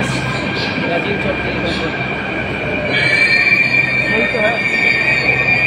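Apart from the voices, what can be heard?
metro train arriving at station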